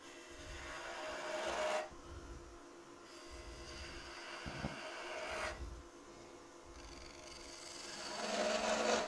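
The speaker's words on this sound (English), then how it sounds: "Switch to a smaller spindle gouge. It's my 3/8 inch detail gouge." A 3/8 inch detail spindle gouge cutting a wooden mallet on a lathe makes a raspy scraping whir that comes in bursts with pauses between, moderately close and with no voices.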